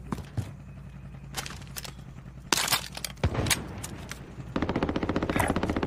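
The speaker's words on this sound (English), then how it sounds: "That's an assault rifle, David." Assault rifle in Call of Duty Modern Warfare, scattered single shots and clatter giving way to a loud, rhythmic burst of rapid automatic fire near the end, with handling clicks and impacts between shots.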